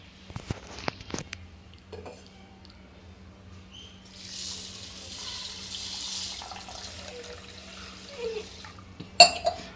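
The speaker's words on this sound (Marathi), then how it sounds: "आणि त्यामध्ये पाणी ओतून घेऊ." Water poured from a container over one glass of mung dal to soak it in a home kitchen on a rainy day: a soft, steady splashing pour lasting a few seconds after some light clicks, ending with a sharp clink.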